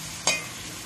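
Two chopped onions hit hot oil for Alexandrian shrimp kishk, giving one sudden sizzling hiss that fades into a soft, steady fry.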